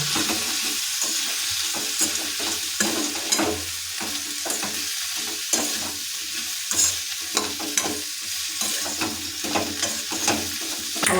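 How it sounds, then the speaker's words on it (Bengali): Ground spices stirred and frying over a low flame for a chikni greens chechki, a steady close sizzle broken by repeated scraping strokes of the spoon against the pan, with no talking. "এটাকে আমরা আরও মিনিট তিন মিনিট ধরে লোক ফ্লেমে নাড়িয়ে নেব"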